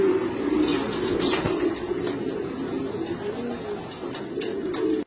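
Several homing racing pigeons gathered at a loft coo in a low, continuous, overlapping murmur, close by, with a few faint clicks and flutters over it and no speech.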